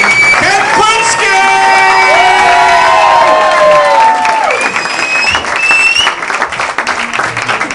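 A comedy club audience applauds and cheers loudly after comedian Ken Krinsky's Rodney Dangerfield impression, with whoops and shouts over sustained clapping that fades toward the end.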